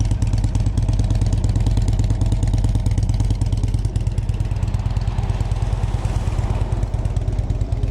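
A 2013 Harley-Davidson Street Glide FLHX with a 103 engine and Rinehart slip-on mufflers idles close by, a loud, steady, deep throaty rumble with a rapid rhythmic lope and mechanical clatter, no voices.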